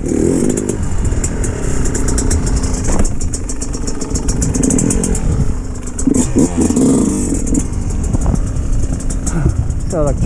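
A YZ125X dirt bike engine revs and clatters nearby on wet ground during a wheelie attempt, with its loud, buzzy two-stroke note rising and falling throughout and people talking over it.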